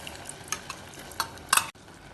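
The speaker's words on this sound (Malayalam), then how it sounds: "ഇത് ഒന്ന് ഇളക്കി കൊടുത്ത ശേഷം ഒരു 2 മിനിറ്റ് അടച്ചു വെക്കാം" A spoon stirs cooked cowpeas into softened pumpkin in a pan, giving a few close scraping and clattering strokes with a faint sizzle, then a brief stop.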